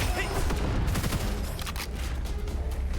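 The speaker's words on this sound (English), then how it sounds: "So that's the basic grenade." Basic grenade explosions in the shooter game Gunfire Reborn, a dense burst of booms and crackling blasts rolling on steadily for three seconds with gunfire-like texture, loud and busy throughout.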